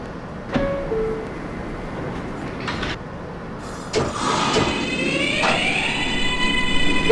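Doors of a New York subway J train close at a station in the OpenBVE train simulator: a few clunks, a chime, then a sliding door thump and rising whine of the motors under steady cab ambience.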